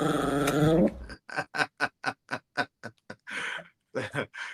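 A small female dog lets out a drawn-out growling whine, then a rapid string of sharp, short yaps and barks in an uneven rhythm, close and fairly clear.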